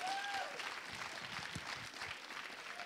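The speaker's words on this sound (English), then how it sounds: "You can applaud, eh? Bravo." An audience at a documentary film festival Q&A applauds steadily, a dense continuous patter of many hands holding at one level for the whole stretch.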